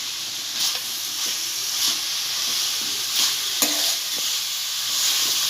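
Grated coconut churan with jaggery and ajwain cooking in a pan on medium heat: a constant bright sizzle and hiss, with occasional soft stirring scrapes and taps.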